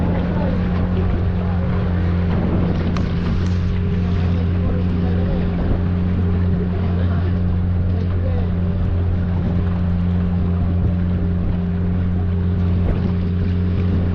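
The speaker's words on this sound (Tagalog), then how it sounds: "At least nakasakay na tayo ng bangka papunta doon no?" Steady boat motor droning loudly and continuously on the Callao River in Peñablanca, Cagayan, with wind rushing over it; faint voices occasionally under the engine.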